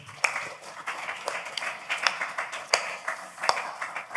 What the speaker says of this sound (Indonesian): Saya lagi boleh tepuk tangan paling meriah dong